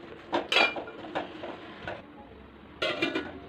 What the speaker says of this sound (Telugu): ఇప్పుడు ఇదంతా తిప్పుకుందాం